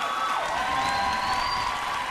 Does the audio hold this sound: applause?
yes